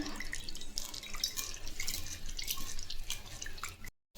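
Water splashing and dripping as dal is rinsed in a bowl during Tamil-style kulambu preparation, a close, continuous trickling and pattering that cuts off abruptly at the end.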